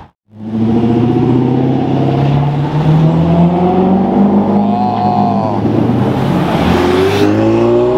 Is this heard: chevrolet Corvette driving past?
yes